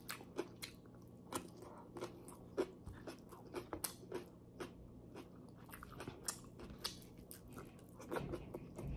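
Close, crisp crunching and chewing of salted radish salad eaten alongside grilled pork and eggplant, with repeated bites and wet mastication across the whole stretch and no talk.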